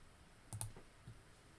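Computer mouse clicking at a desk, a quick pair of sharp clicks close together, followed by a softer single click in a quiet room.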